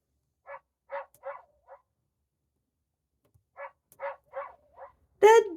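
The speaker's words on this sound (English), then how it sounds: "The dog goes woof." Recorded dog barks from a children's farm animal sound book, two bursts of four short woofs separated by a pause, ending with a louder sharp sound.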